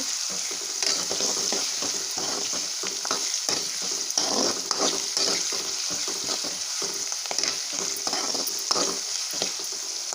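Dried shark fish thokku with garlic sautés in a pan, giving a steady sizzle broken by frequent scraping stir strokes throughout, with no voices.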